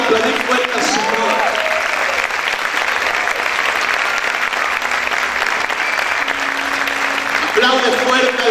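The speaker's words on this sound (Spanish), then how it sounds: "Aplaude fuerte al Rey en esta hora." A church congregation claps loudly and continuously during a worship service, the sustained applause filling the room with a voice and tonal sounds rising over it at the start and end.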